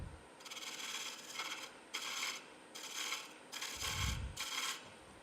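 Hand thread-cutting die taking the crest off fully cut threads on a workpiece, giving a series of rough rasping strokes in a steady back-and-forth rhythm, close and clear, with a low thump near the end.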